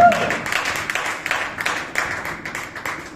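A church congregation applauds together, a steady patter of many hands clapping at moderate volume, rising and falling in waves for a few seconds with no voices over it.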